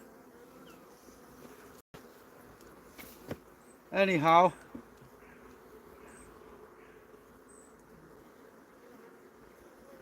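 Honey bees hum around an open hive, a faint, steady low buzzing throughout, broken by one brief louder buzzing burst midway and a single short spoken word.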